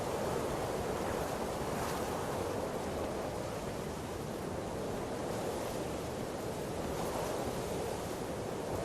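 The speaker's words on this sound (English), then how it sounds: "The gusts swirl around me, carrying with them the sense of earth" Steady wind and rolling surf roar together in the video game Purpose 1951, a loud, continuous wash of noise with gentle swells in strength and no voices over it.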